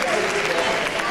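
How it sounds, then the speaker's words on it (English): Audience applause at a community engagement forum, a brief burst of steady clapping from a crowd with talking mixed in. "Let's give her a round of applause."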